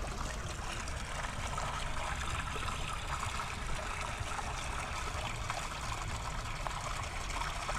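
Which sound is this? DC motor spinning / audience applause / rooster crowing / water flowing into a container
water flowing into a container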